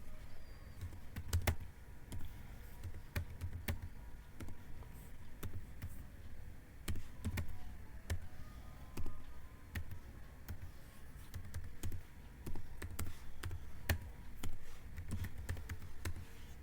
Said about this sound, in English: Now I'm typing this whole word and this one also.